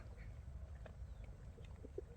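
Pigeons coo softly in the distance over a low, steady outdoor rumble, with a few faint chirps scattered through.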